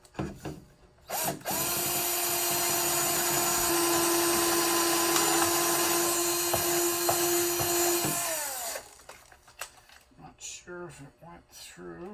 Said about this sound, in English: I just took a small drill and went through the hole